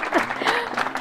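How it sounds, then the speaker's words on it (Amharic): A studio audience on a talk show claps in a short, dense burst, with a voice briefly mixed into the applause. "እሺ ቤተልሔም አጨብጭቡለት። አሁን ነው ማጨብጨብ።"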